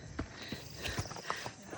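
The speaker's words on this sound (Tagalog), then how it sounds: "Yan ang kabayo." Horse hooves clip-clopping at a walk on a mountain trail near Santa Cruz, Davao del Sur, a handful of distinct, evenly spaced hoof strikes, fairly close, over light outdoor ambience.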